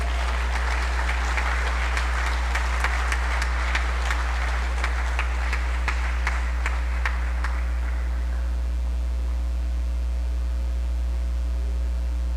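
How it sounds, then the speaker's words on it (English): An audience at a book launch welcomes Professor Brinsley Samaroo with a round of applause that swells, holds for several seconds and fades out around the eighth second over a steady mains hum. "let us please welcome with a round of applause Professor Brinsley Samaroo"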